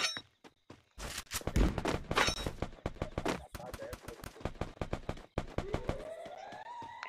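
Rapid bursts of gunfire from a video game crackle in quick volleys, close and loud, with metallic clinks and a rising whine near the end.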